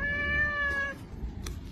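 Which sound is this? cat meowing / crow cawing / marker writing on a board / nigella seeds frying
cat meowing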